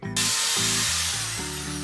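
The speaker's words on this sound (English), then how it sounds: "Hold on to the drill." A power drill drives screws into the wooden top of a homemade scooter grind box, its motor whining in loud, steady bursts that rise and drop in pitch as each screw bites, close up with no talking.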